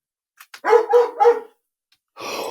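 A dog whimpering and whining in short high-pitched cries, three drawn-out whines in a row, close and fairly loud, followed by a burst of rustling noise.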